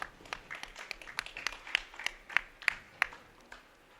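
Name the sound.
audience applause for the place finisher at a bowling tournament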